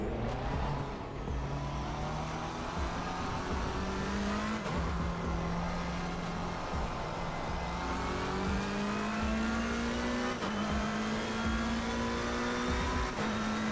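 GT3 race cars, including a McLaren 720S GT3, racing at the Nürburgring in Assetto Corsa Competizione: a steady loud engine drone rising and falling through gear changes, with other cars' engines layered in and no talk.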